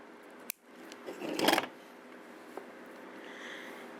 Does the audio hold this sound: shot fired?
no